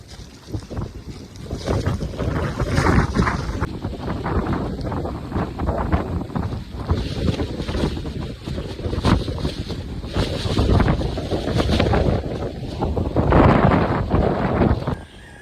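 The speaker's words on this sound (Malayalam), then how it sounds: "കടൽ വെള്ളം ഇങ്ങനെ കയറുമ്പോൾ പതഞ്ഞ് പൊങ്ങണ കാഴ്ച" Rough monsoon sea surging and foaming onto the beach at Cherai on the Kerala coast, a loud continuous roar of churning surf with heavy wind buffeting the microphone throughout, no talking.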